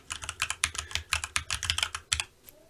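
Typing on an ASUS ROG Falchion NX mechanical keyboard: a quick, close run of crisp keystrokes with an uneven rhythm, heard alone.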